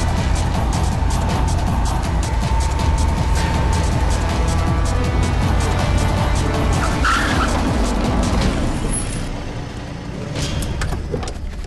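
A car pulls away with a loud, sustained engine roar and a whining tire squeal, close by at first, then easing off near the end.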